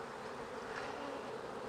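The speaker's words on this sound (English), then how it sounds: "you can see they're just packed full of bees" Honey bees buzz steadily in a crowded, overfull hive opened for inspection, a dense, even drone that stays faint and close without any talk.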